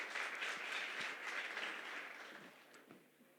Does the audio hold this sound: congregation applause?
yes